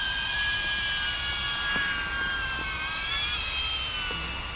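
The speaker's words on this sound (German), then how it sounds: "hier fliegt eine Drohne über mir." A drone hovers overhead outdoors in nature, giving a steady, thin high-pitched whine that holds fairly constant and moderately loud throughout, with no talking.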